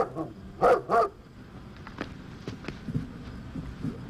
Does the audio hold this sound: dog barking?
yes